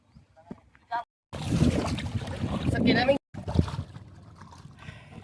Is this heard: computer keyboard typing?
no